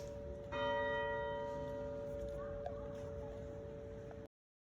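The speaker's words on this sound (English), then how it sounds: "Oh yeah, the church bells." A real church bell rings in Scotland, struck once with a loud onset and then a long, even hum that slowly decays before cutting off abruptly.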